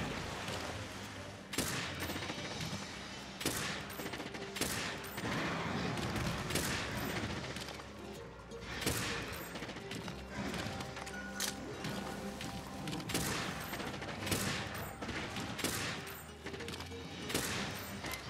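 A heavy bowgun firing piercer ammo in Monster Hunter World, with rapid repeated gunshot-like cracks in a dense fusillade running continuously over a busy game soundscape.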